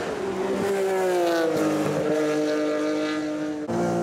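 A mid-engine Honda NSX race car at speed on the Tsukuba circuit, its engine holding a steady high whine that climbs slightly, then drops sharply near the end as the driver shifts.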